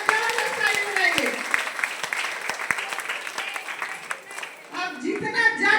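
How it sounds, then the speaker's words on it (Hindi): An audience at a DXN motivational meeting claps in scattered bursts while a voice keeps talking over the applause. "ऊपर वाले के लिए जबरदस्त ताली बजाइए।"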